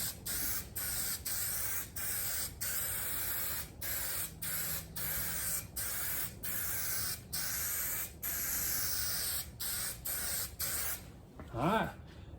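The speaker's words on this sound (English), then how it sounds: "Get that stuff on there good, get it all sprayed." Spray adhesive hisses from an aerosol can onto upholstery material for car door panels, in repeated steady bursts broken by brief gaps, close and fairly loud, then a short squeak at the end.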